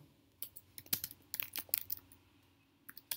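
A command being typed on a computer keyboard: sparse, uneven keystrokes that build into a quick burst of sharp clicks and then trail off to a final couple of taps, close up and with no talking.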